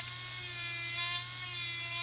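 A rotary burr grinds down a thick toenail during nail care, giving a steady, high-pitched electric whine that holds close and constant without a break.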